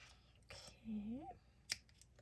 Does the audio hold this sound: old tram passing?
no